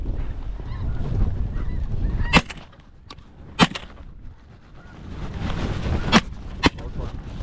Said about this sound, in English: that's a goose, ain't it?